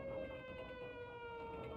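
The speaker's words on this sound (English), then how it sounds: "Siren doesn't sound like a real air horn." A steady, droning siren from the video game Blood: Refreshed Supply, faint and continuous with a sustained tonal wail and no talk.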